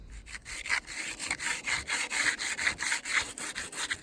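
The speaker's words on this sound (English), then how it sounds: "We're just going to sand all of this back now." Filler being hand-sanded on the front grille of a Mercedes SL R107, steady rapid back-and-forth rasping strokes, close and loud, with no talking.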